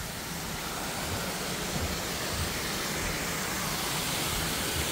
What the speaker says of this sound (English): here's a little tiny waterfall for you guys to enjoy